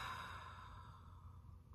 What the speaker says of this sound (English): and a nice full exhale.